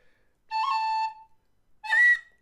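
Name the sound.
whistle playing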